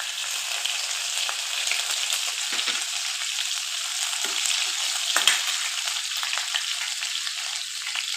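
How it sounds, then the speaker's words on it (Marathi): Cumin seeds and green chillies crackle and sizzle in hot oil for a fasting-day khichdi, a steady, bright frying hiss that runs throughout with small pops and no talking. "जिरे तडतडले की आपण ही मिरची टाकून घेऊया."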